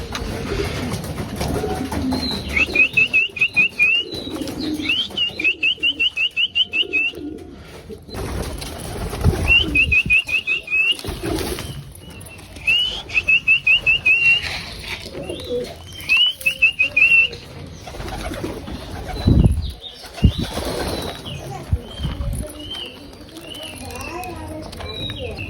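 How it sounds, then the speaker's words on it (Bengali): Racing pigeons coo in repeated bursts, close and fairly loud, with a few brief wing flaps between calls, while a person talks over them at intervals. "আমার কবুতরগুলো, এই কবুতরটাই ডিম পারবে আর কয়দিন।"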